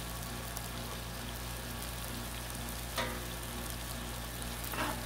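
Meat for chili sizzles on a Blackstone griddle with a steady, close frying hiss, broken by two brief scraping bursts near the middle and end.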